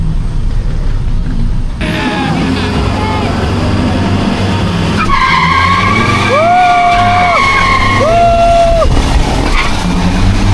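Vehicles performing wheelies and racing at a town fiesta in Lipa: a dense, loud roar of engines and crowd din runs throughout, with rising whistling tones midway and people talking over the noise.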